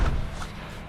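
A single heavy car door thud near the start, close and short, then a low rumbling room tone trailing off; the car is a Camaro.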